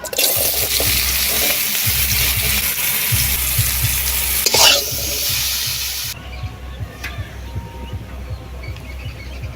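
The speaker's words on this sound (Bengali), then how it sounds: "মাছগুলো ভাজা হয়ে গেছে এবারে বেগুনগুলো ভাজবো" Eggplant slices fry in hot oil, a loud, dense sizzle and crackle close to the pan that drops suddenly to a quieter bubbling hiss near the end.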